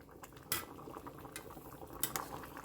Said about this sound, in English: we got a good rolling boil going here